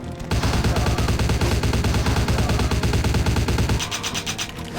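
Rapid, continuous automatic fire from an Ingram submachine gun in the game Vampire the Masquerade Bloodlines, a loud close burst of tightly spaced shots lasting about four seconds before cutting off into a short tail.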